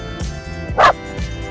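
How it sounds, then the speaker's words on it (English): A dog named Toss gives a single sharp bark at a snowman outdoors, standing out clearly over steady background noise. "Toss, what are you barking at? She's barking at a snowman."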